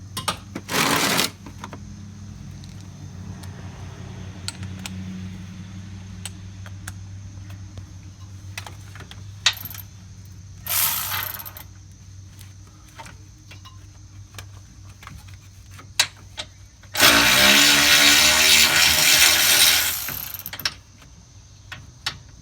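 A ratchet works on 15 mm bolts on the steering rack of a 2010–12 Ford Fusion/Mercury Milan during an electric rack-and-pinion replacement. Short bursts of rapid clicking come up close, separated by quiet pauses, with one longer, louder burst near the end.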